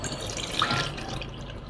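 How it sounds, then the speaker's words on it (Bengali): Warm milk poured from a container into a bowl for a pudding, a soft continuous liquid splash for under two seconds with no talking. "এখন আমি একটি বাটিতে এই দুধটাকে ঢেলে নিব।"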